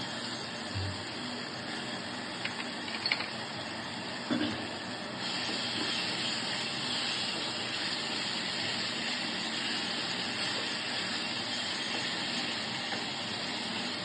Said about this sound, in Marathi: आलं लसूण पेस्ट थोडी परतून घ्यायची लसणाचा कच्चा वास गेला पाहिजे